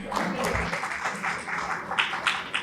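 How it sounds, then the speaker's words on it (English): A room of people claps steadily, a dense patter of applause at moderate volume, with some voices mixed in. "Please give them a round of applause."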